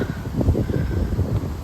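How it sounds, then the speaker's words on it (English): Strong gusty wind buffets the microphone at an allotment garden with low rumbling roar, no voices heard. "It is very windy"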